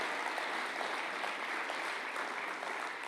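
Audience applause at a Right to Life of North Central Indiana event, following a reunion with emergency personnel; steady, dense clapping fills the whole stretch at moderate level with no voices.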